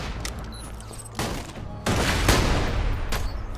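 Pistol fire in Borderlands 2 played in VR, bursts of sharp shots that swell louder partway through amid explosive in-game action, with no talk.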